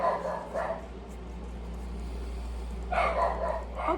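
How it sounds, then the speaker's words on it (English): A dog barks nearby in two short bursts at the start and near the end, with a quiet indoor hum between them. "my dog is barking"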